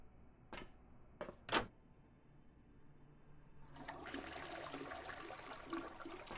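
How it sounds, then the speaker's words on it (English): Water begins running in the video game Encased after a few sharp clicks and knocks, then settles into a steady rushing flow that continues to the end. "Sound of running water."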